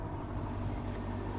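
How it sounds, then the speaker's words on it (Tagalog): A truck rolling past on a rural road, a steady low engine rumble close by for a short moment with no voices. "Uy, may sasakyan. Truck."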